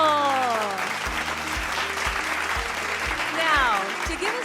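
A crowd applauds 130 new CES eligibles at a congress, a broad steady wash of clapping that runs under a speaking voice, with a pulsing musical beat underneath.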